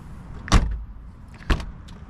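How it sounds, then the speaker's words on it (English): The door of a 1985 Mercedes-Benz 500SEC pillarless coupe shuts twice, each a solid, heavy thunk about a second apart, close and clear against a quiet background. "door shut on a pillarless coupe."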